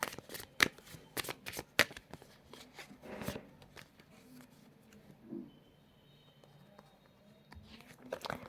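Oracle card deck shuffled in bursts of quick riffling clicks and flutters, close and crisp, with a few soft handling rustles between and low room noise.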